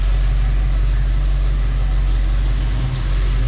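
Restored 1957 Chevrolet Corvette engine running smoothly at idle, a steady, even low rumble that holds at constant loudness throughout with no revving.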